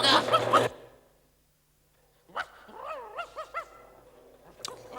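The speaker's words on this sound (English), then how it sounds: "Someone shut that dog up." A cartoon dog gives a few short, yelping barks and whimpers after a brief gap, following a burst of other noise at the start.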